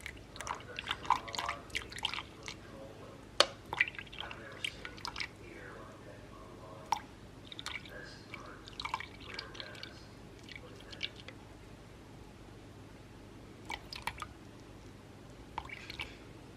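Flour and water for a sourdough are mixed slowly by hand, giving soft wet squishing and sticky clicks in irregular bursts, close and quiet.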